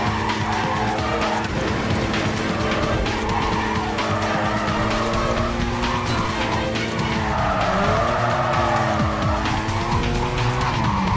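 Race car in the video game Need for Speed Carbon revving hard at high speed, engine pitch rising and falling through gear shifts with continuous tire squeal, loud and steady throughout.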